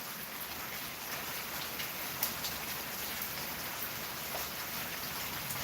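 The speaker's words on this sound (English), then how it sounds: "Just hanging out on the porch, watching the storm." Steady, dense rain falls during a thunderstorm in Oklahoma City, heard from a porch as an even, close hiss of drops with no distinct thunder and no talking.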